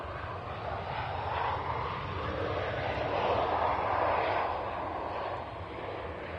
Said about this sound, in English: There's an Air France on finals as well. That's an A319 from Paris.